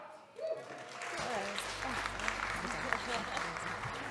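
An audience claps after a Pecha Kucha talk, a fairly quiet, even wash of applause that swells after a brief pause. Voices talk over it at the start and beneath it.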